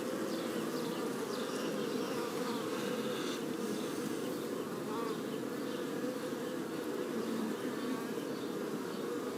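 Honey bees from an opened top bar hive buzz in a dense, steady drone throughout, close and continuous with no talking.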